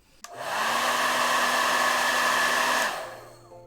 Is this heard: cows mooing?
no